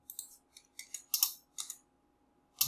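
A computer keyboard is tapped in a short burst of separate sharp clicks, a few keystrokes spaced unevenly before a final firmer press of the Enter key, close and fairly quiet.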